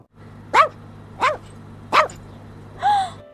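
A dog barks three times in sharp, spaced yaps, then lets out a longer whining bark, close and clear over quiet background hum.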